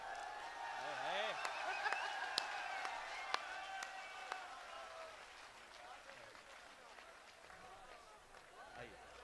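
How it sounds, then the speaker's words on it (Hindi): Applause from the audience at a Hindi poetry recital (kavi sammelan), a dense crackle of clapping and crowd noise with a few sharper claps, fading gradually over several seconds. "आपकी जोरदार तालियों के बीच"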